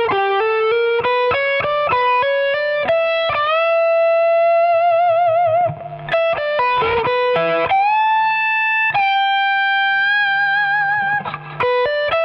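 Three rock licks played slowly in a row on distorted electric guitar, with picked runs, long held notes with vibrato and bends between bursts, loud and up close with no voices.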